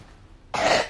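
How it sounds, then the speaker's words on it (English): A single sharp cough bursts out after a quiet half second, loud and close, with a child and adult nearby at home. "you didn't cough on your hands"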